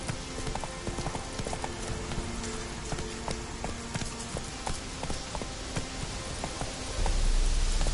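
Roach, Geralt's horse in The Witcher 3: Wild Hunt, trots along with a brisk, even clip-clop of hooves over a dense background hiss, steady and unbroken, with the noise swelling slightly near the end.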